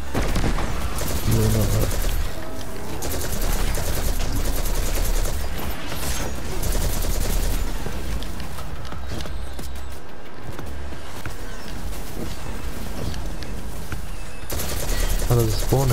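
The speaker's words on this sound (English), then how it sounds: "there's a lot of explosions" Steady rattling automatic gunfire and booming explosions from a Destiny 2 firefight fill the whole stretch at high level, with a brief voice speaking over the battle noise.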